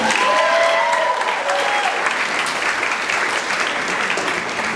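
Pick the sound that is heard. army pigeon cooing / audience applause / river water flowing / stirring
audience applause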